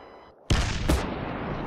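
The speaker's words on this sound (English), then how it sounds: "Taste grenade." A grenade blast in the video game PayDay 2 during a bank heist: a sudden loud, close explosion after a brief lull, followed by a second sharp crack and a long, rumbling, noisy tail.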